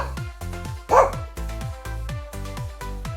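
A playful dog barks in a lively, repeated rhythm of short yips over bouncy background music, with one louder bark standing out near the start.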